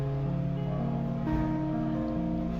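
An arpeggio rings out on the seven main strings of a harp guitar, its sustained notes stacking and overlapping in a steady run, close and clear with no talking.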